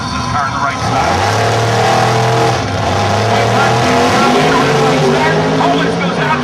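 A big-bodied Chevrolet Chevelle drag racing car launches hard at Union Grove Drag Strip, its engine roaring loud and continuous with rising pitch as it accelerates, with a steady crowd-and-track wash under it.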